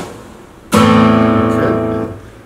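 A single palm-muted strum on an acoustic guitar, with the right hand resting on the strings. It is a dull, close thump that rings briefly and fades within about a second, with no talking.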